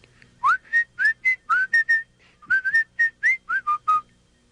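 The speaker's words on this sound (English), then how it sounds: "Brer Rabbit came hopping down the road, just whistling." Brer Rabbit whistles a bouncy tune in the PS1 storybook game 16 Tales, a dozen short rising and level notes in two phrases, close and clear with no talking.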